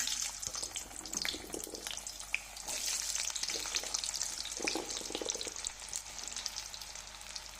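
Small gooseberries (amla) frying in hot oil for a pickle, a dense, bubbling sizzle that stays loud and close throughout with no voices.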